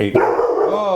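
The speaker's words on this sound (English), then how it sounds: "Sorry, that's my dog there." A dog barks close by, a short loud bark overlapping a man's speech indoors.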